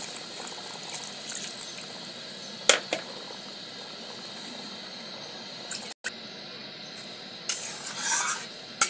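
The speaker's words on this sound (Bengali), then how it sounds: "জলটা দিয়ে ভালো করে এইবারে নেড়ে দিই।" Potato curry being stirred in a pan after water is added, a soft wet sloshing and scraping under a faint simmering hiss, with a few sharp utensil knocks near the end.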